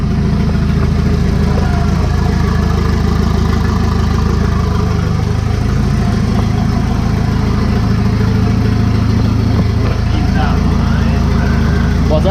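Volvo 740 engine with a junkyard turbo fitted, idling steadily with a low, even rumble throughout, close and continuous, with faint voices in the background.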